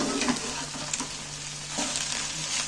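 Egg frying in a pan and being stirred for egg momos, a continuous close sizzle with scraping stirs and a low steady hum underneath, no voices.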